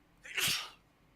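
A single sharp sneeze bursts out close by, brief and alone against a quiet background.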